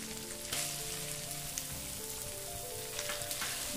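Sliced onions fry for veg Hyderabadi biryani, with ginger and garlic paste in the pan, giving a steady, close sizzle and light crackle throughout, no voices over it.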